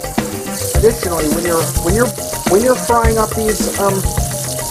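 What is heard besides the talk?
meatballs frying in hot oil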